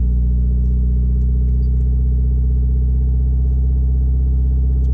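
A Toyota MR2's engine held at a steady rev by foot rather than idling, a loud continuous low drone with strong engine harmonics, close and unbroken, with faint clicks above it.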